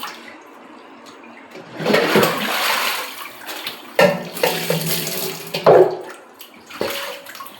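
Chicken meat being rinsed with turmeric under running water, with a steady tap stream and bursts of splashing and sloshing as the pieces are washed by hand in a vessel, close and fairly loud.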